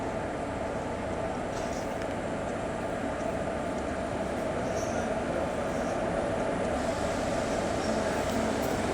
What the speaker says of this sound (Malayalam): ഇലക്ട്രിക് ഇൻസ്പെക്ഷൻ കാറുണ്ട്, അതാ വരുന്നുണ്ട്.